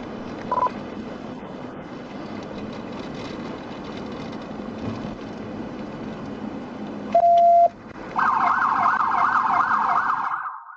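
A police siren in a chase after a stolen bus: a short whoop, then a loud, steady electronic siren tone holding for a couple of seconds over background road noise.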